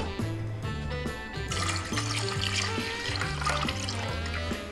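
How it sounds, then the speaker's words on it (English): Red wine poured into tea for a festive Christmas drink, a continuous close liquid splash and trickle that grows fuller after the first second and keeps running steadily, with a low background hum and no talking. "So I'm going to pour the wine here into the tea."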